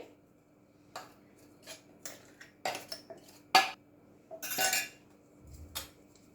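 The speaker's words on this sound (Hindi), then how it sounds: "अब इसको हम थोड़ा सा छान लेंगे ताकि हमें एक स्मूथ पाउडर मिल सके" Ground cashew powder being sieved through a metal strainer, heard as scattered tapping and scraping clinks of metal, some sharper knocks and a brief rustling shake, quiet and close with no talking.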